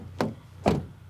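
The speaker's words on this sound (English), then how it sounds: "And rear door closing sound," A Mazda 3's rear car door shuts close by with two hollow, knocking thuds spaced about half a second apart, each ending quickly in a quiet room.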